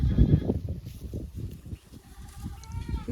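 Goats bleat repeatedly on a highway, several close, loud cries in quick succession with a short lull before more bleats resume.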